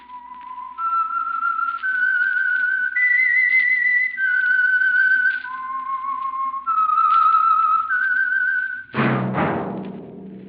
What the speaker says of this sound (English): That whistle